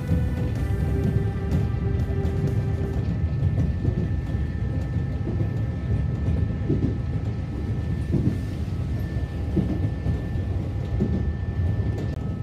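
Nankai Koya Line train running through Sayama station, heard from on board as a steady low rumble of wheels and motor with rhythmic rail joints and faint tonal hum, continuous and fairly loud.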